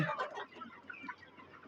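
Hens cluck quietly while pecking at and eating threads from cloth scraps, a few short soft clucks close by over a low, calm background.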